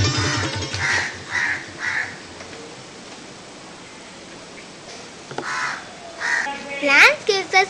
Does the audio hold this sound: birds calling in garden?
yes